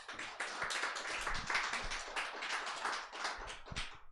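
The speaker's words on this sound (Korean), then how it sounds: "박수로 우리 윤득형 목사님 우리 맞이하도록 하겠습니다" Applause from a church audience welcoming Pastor Yoon Deuk-hyeong to the front at a well-dying seminar, a steady dense clapping that carries on evenly for several seconds with no one talking over it.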